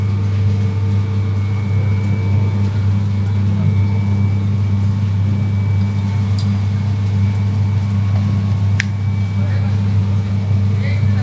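An animal feed pellet plant running in a village factory, giving a steady, loud mechanical hum and drone with a deep low rumble and faint clanks, under distant talk.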